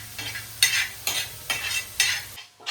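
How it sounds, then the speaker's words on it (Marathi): Chicken coated in spices fries and is stirred on a tawa: four evenly spaced scraping strokes rise over a steady close sizzle, then the sound cuts off briefly near the end. "मस्तपैकी मसाल्यांमध्ये मिक्स करून घ्यायचंय बघा आणि आता तव्यावरतीच बनवायचंय ना"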